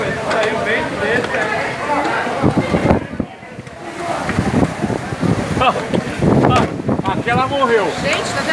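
Strong gusty wind batters the microphone outdoors near water, roaring and buffeting in uneven surges while several people talk excitedly over it.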